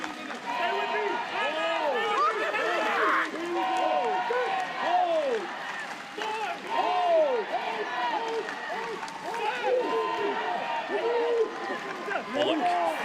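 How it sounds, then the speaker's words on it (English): Crowd at a Korea vs UAE rugby match in the Asia Rugby Emirates Men's Championship roars and cheers steadily through the clip, with a commentator speaking continuously over the noise. "Crowd trying to lift them."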